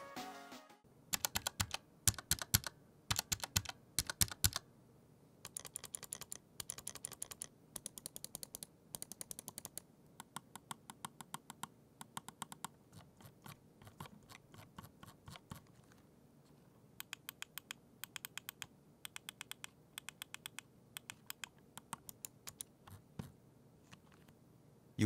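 Corsair Glaive RGB gaming mouse buttons clicking in rapid bursts of sharp, close taps, dense flurries broken by brief pauses, fairly quiet and with no voices.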